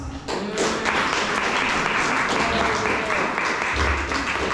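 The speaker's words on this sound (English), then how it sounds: "They all deserve a round of applause." Guests at the opening reception of the Festival of Books in the Alleghenies applaud the festival volunteers, a continuous crowd clapping that starts abruptly and carries on under a speaking voice.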